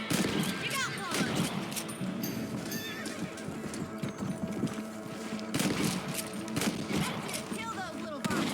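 Rifle shots ring out during a rabbit hunt in Red Dead Redemption, mixed with horse hooves clopping and a whinny, while voices talk throughout.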